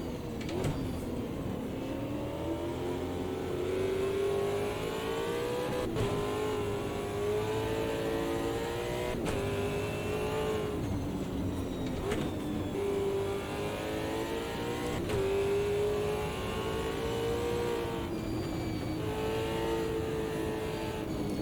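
Super V8 race car in Automobilista 2 at Bathurst, a loud, continuous engine note rising and falling through gear changes, with repeated revving and shifts throughout.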